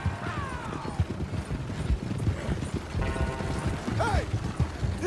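Horse hooves clip-clopping steadily in the open-world western video game Red Dead Redemption 2, with a short whinny and mechanical creaks and rattles mixed into a busy, moderately loud ambient background.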